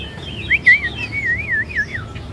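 A robin songbird sings a quick string of high, warbling chirps and whistles, close and clear, with no voices over it.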